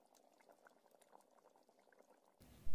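Curry gravy (kuzhambu) bubbling in a pot on the stove, a soft, steady simmer of small pops and gurgles at close range, ending in a brief louder burst.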